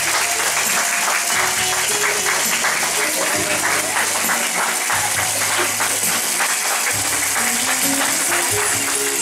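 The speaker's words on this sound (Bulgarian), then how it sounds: "Аплодисменти за това." Wedding guests break into loud, sustained applause that fills the whole stretch at a wedding celebration, steady and close, with music and a faint voice underneath.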